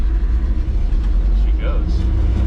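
A 55-year-old farm truck, running rough after 17 years off the road, rumbles steadily with a deep, constant low engine drone, close by, while a voice speaks faintly over it.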